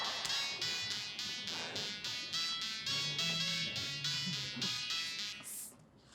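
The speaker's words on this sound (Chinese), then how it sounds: "接你的电话啦" A phone rings in a regular repeating electronic pattern, bright bursts of tone with short gaps, fairly close, while a low voice murmurs faintly beneath; the ringing cuts off near the end.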